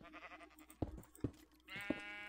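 Sheep in the Minecraft video game bleat several times, sharp and distinct over faint background game sounds, with a longer sustained bleat at the end.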